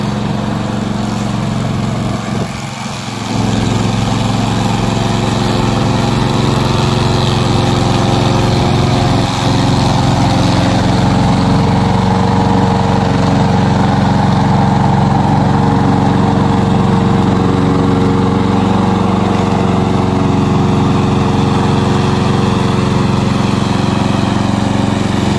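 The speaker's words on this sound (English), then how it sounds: "Today, I'm glad to introduce our remote control lawnmower." A small remote control lawn mower engine runs steadily and loudly at close range, a constant droning hum with no pauses or speech.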